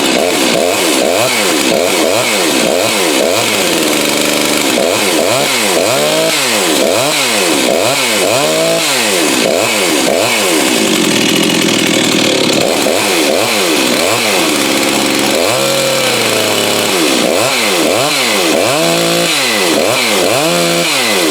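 A newly assembled Farmertec Huztl 036 kit chainsaw runs loud and close after its first start, its engine revving up and down over and over in rhythmic bursts, with brief idling stretches between.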